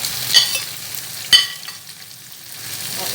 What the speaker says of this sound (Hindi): अब मैं ये सारी भिंडियाँ कढ़ाई में डाल दूँगी।